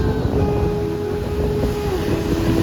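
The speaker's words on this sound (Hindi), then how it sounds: "और पानी की लहरें तो देखिए इतनी तेज है।" Strong sea waves at Dwarka beach make a dense, steady roar of surf and wind, with a faint mechanical hum running underneath; there are no voices.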